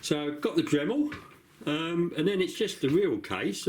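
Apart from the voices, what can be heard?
No everyday noises stand out.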